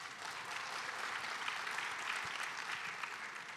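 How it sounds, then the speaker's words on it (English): An audience applauds during a presentation, a dense, even round of clapping that stays fairly soft and continuous, with no talking on top. "Can we get a round of applause for that?"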